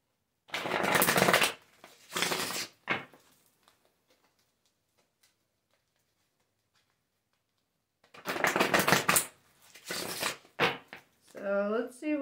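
A deck of tarot cards is shuffled in two rapid riffling bursts near the start and again after a pause, crisp and close, with a voice talking briefly at the end.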